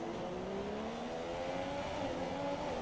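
Race car engine in F1 2017 droning steadily as it enters pit road at the Chinese circuit, a continuous mid-pitched hum with faint tire noise, loud and close throughout with no talking.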